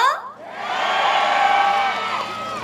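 Festival audience at an outdoor concert roars a long, loud cheer with whoops and shouting voices, swelling after a brief dip and holding steady before tapering slightly.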